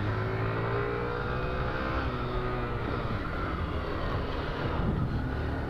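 Honda Fan 125i motorcycle engine on a test ride, a steady loud drone with harmonic tones that shift slightly as the bike runs, mixed with constant wind rush, no talking.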